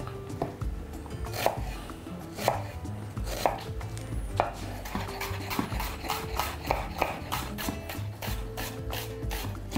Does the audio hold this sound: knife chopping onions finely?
yes